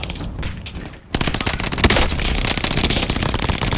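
Loud rapid gunfire in a Call of Duty match, a quieter muffled stretch followed by a sudden burst of close, dense automatic shots that continues steadily to the end.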